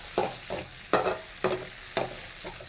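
Onions fried with drumstick leaves for murungai keerai poriyal are stirred in a pan, five distinct scraping strokes in a steady rhythm with soft sizzling between them, close and clear with no talk.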